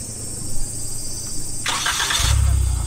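A Suzuki Jimny Sierra JB74 fitted with a Trust turbo kit starts up, a sudden engine catch and crank about halfway through, then a low, rumbling idle that settles in close by with no talk.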